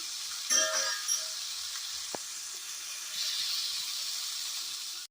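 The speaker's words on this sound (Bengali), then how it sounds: "এটা কিছু সময় ভেজে নেব" Food fries in a hot pan with a faint, steady hiss that swells slightly toward the end, punctuated early by a few soft clinks of utensils.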